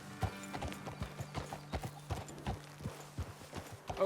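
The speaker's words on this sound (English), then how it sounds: "Best leave the horses back a bit." Horses' hooves clip-clop at a steady walking rhythm in Red Dead Redemption 2, moderately close and fairly faint, with the occasional snort between steps.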